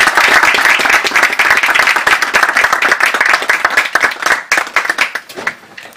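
Audience applause welcoming author David Swanson to a book talk, dense steady clapping from a crowd that stays loud, then thins into scattered claps near the end.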